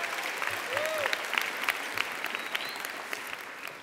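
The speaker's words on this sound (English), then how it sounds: "Another round of applause." An audience at a high school graduation ceremony applauds, giving a continuous wash of many hands clapping in a large hall, steady and fairly full for the whole stretch.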